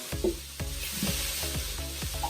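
Vegetables and tomatoes sizzle in a hot pan for green peppers with chickpea flour, with cilantro and onion already cooking. A steady close sizzle is broken by regular scraping stirs about every half second, with no talking.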